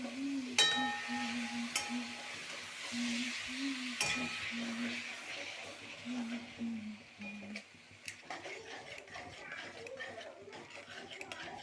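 Soft scraping and clinking of a spoon stirring cabbage with chana dal in a pan, irregular light taps against the metal under a steady tonal hum, with a person talking over much of it.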